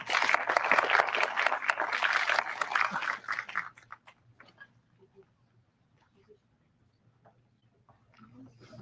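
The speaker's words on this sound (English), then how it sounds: "Please give him a warm round of applause" Audience applause at a medical conference, a dense burst of many hands clapping that fills the opening three and a half seconds, then dies away to scattered faint claps and quiet room noise.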